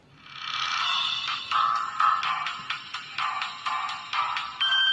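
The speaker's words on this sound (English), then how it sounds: "Oh my god, what is this? An old phone." An old phone ringtone plays loud and close, a bright electronic melody of short repeating chirped notes with brief gaps, sounding alone without voices.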